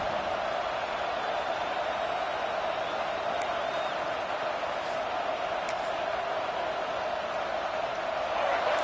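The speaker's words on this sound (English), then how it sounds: "This crowd bringing the energy and noise early." A dense, steady roar of a large stadium crowd at a football game against Virginia Tech fills the whole stretch, loud and continuous with no breaks.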